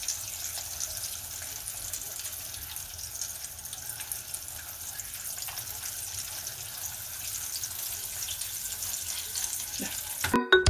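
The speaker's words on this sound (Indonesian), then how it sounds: "lanjut kita menggoreng sampai dia semuanya kuning kecoklatan." Martabak batter filled with Japanese curry sizzles steadily in hot oil, a continuous close crackling fry with light stirring and a clatter at the very end.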